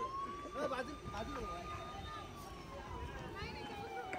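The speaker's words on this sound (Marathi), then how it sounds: "गाडीतून आम्ही पोलीसची सायरन पण लावून दिलेली आहे" A police siren fitted to a car wails as one long, slowly falling tone, held at moderate distance under lively, overlapping voices of friends talking.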